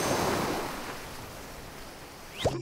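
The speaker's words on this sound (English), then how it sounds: "Yes, it's the roaring crash of the waves." Ocean waves crash onto a beach in a loud, roaring surge that slowly fades into a steady hiss, with a sharp splash near the end.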